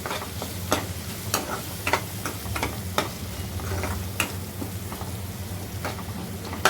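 Ground spices, coriander and cumin powder, being stirred with a drumstick vegetable dish in a hot pan, giving a steady low sizzle with scraping spoon strokes at irregular intervals, close and alone without voices.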